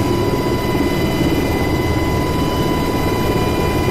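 Roaring jet engine of an F-16 in a DCS World flight simulation on the Persian Gulf map, a loud, steady, close drone with a constant whine layered on top and no voices.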